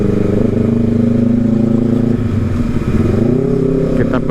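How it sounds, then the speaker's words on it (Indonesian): A loud motorcycle exhaust drones steadily close by on a busy road in Jakarta, its engine note shifting as the rider slows, with traffic noise around it. "By the way, ini knalpot berisik juga nih"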